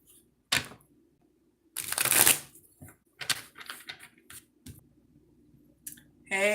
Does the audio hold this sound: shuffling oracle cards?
yes